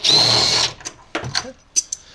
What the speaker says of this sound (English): We're gonna need a T45 to get these out, and we use our impact gun. It's gonna be pretty loud